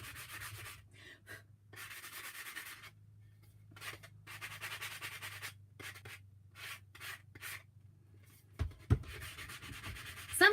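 Sandpaper rubs over a DIY fall pumpkin decoration in short, quiet scratchy strokes separated by pauses, close by, with a few louder knocks near the end.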